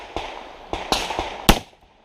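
Revolver shots at an IDPA pistol match pop out as several sharp, loud reports at uneven intervals, each a short crack with a brief outdoor tail, the last one strongest.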